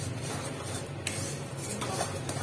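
A spoon scrapes and clinks in a pan as a sugar mixture is stirred, a steady low rumble underneath with a couple of brighter metallic taps, close and fairly quiet.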